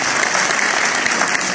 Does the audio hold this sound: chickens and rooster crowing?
no